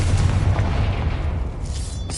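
Confringo blasting spell from Hogwarts Legacy, a steady low booming rumble with bursty crackle through the clip and a sharper burst near the end, with no talk.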